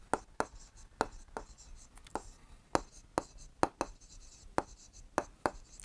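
Chalk or marker strokes tap and scrape across a board during a Class 7 maths lesson on rational numbers, sharp irregular strikes recurring every half second or so, close and distinct over a faint room hush.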